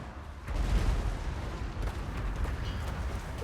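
Grudge thrower artillery firing in the Total War: Warhammer 2 battle game, a dull booming rumble of distant launches and impacts amid a continuous battlefield roar, no talk.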